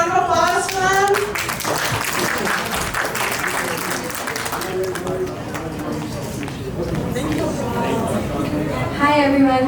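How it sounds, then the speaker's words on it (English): Guests at a birthday celebration give a round of applause for three granddaughters, a steady clatter of clapping with voices and chatter mixed in around it. "Can we have a round of applause for them?"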